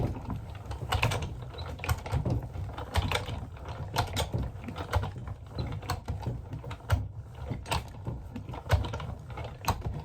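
A roller machine feeds leather and card through with a steady mechanical clatter of rapid ticks and grinding, close and fairly loud, continuing throughout with no talking.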